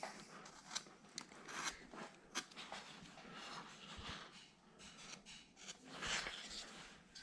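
A knife carving a small wooden cowboy figure, cutting fold lines into the pant leg: close, quiet scraping and rasping strokes of irregular rhythm, with no talk.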